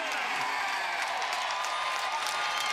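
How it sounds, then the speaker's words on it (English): Large crowd at Indianapolis Motor Speedway cheering and applauding after Indianapolis 500 qualifying, a dense, steady roar of clapping and shouts filling the whole moment without letup. "Listen to the crowd."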